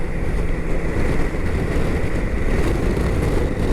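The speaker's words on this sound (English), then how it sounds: "Ugh, way too much wind." Heavy roaring wind buffets a rider on a 2023 BMW K1600GTL motorcycle in gusts over 30 mph in Wyoming, a loud, continuous rushing blast with no break and no speech.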